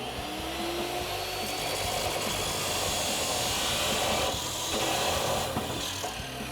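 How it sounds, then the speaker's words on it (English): Chop saw cutting through a steel exhaust pipe for a 2019-2024 RAM 1500 dual exhaust, a loud continuous abrasive grinding roar lasting throughout with no voices. "So now we're gonna go to our chop saw, cut that off."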